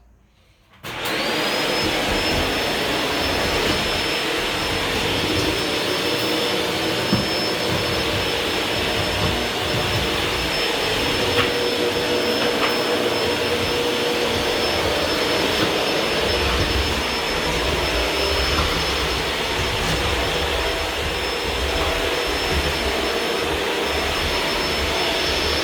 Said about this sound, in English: So let me start, there will be a little bit of a noise.